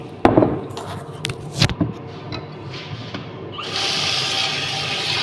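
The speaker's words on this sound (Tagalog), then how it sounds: "lagyan lang natin siya ng tubig" Water runs steadily into a cooking pot with burnt rice stuck to its bottom, a continuous splashing fill after a few brief clanks of the pot being handled.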